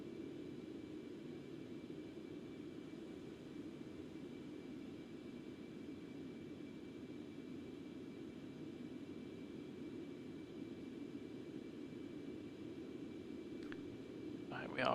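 Concorde engines in the X-Plane 11 flight simulator roar as a low, even, continuous rumble held through the whole stretch, with a brief faint noise near the end.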